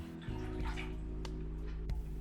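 Water is poured into a cooking pan to start a soya kebab recipe, a soft, brief splashing pour heard faintly beneath a steady tonal background hum.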